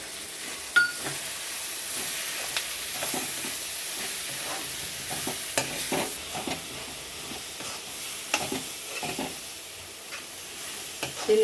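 Masala with crushed kasuri methi fries steadily in a pan for paneer capsicum masala, a continuous close sizzle broken by repeated scraping stirs and the odd faint clink of a spoon, with no talking.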